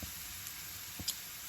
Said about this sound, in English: So we're just going to continue to saute this.